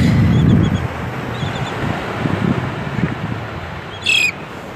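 Juvenile shorebirds squawk now and then at their parents over steady wind and surf noise on Clearwater Beach, with a brief high-pitched call near the end.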